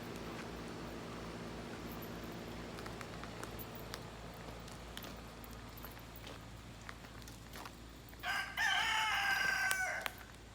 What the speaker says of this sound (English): I got my rooster.